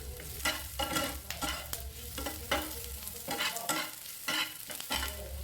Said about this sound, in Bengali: আর ওই একই তেলের মধ্যে পেঁয়াজ কুচি দিয়ে দিচ্ছি